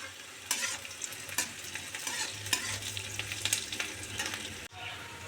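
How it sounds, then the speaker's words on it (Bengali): Chopped onions fry in oil with a pinch of sugar while a spatula stirs them, so an uneven sizzle is punctuated by repeated scraping clatters against the pan at close range, without any talk. "পেঁয়াজগুলো ভাজার সময় অল্প একটু চিনি ছড়িয়ে দেব"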